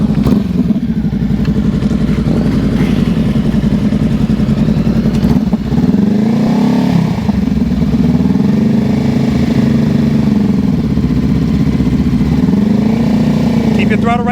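A motorcycle engine runs close by at low, steady throttle during slow-speed riding practice, a continuous mid-pitched drone with small rises and dips as the rider feathers it, while an instructor talks over it.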